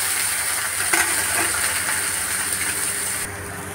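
Onion with ginger hits a hot pan in home cooking, giving a steady broadband sizzle and hiss that flares briefly near the start and drops sharply just before the end, with no voices.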